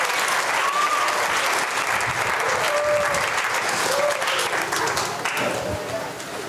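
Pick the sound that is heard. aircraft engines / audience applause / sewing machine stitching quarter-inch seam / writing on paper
audience applause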